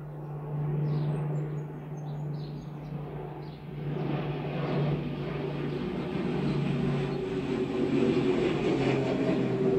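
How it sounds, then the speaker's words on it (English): An aeroplane passes overhead outdoors, starting as a low drone and swelling into a broad, rising roar over several seconds, with a faint bird chirp early on. "here comes an aeroplane"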